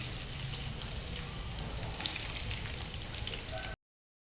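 Onions frying in hot oil, a steady dense sizzle with crackling spatter, close and continuous, cutting off abruptly at the end.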